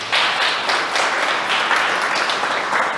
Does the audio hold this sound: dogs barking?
no